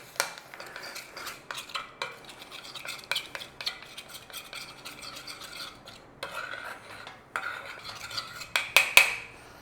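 A spoon scrapes and clinks around a pan as chocolate melts with milk, making irregular close stirring strokes with soft gaps and a cluster of louder knocks near the end.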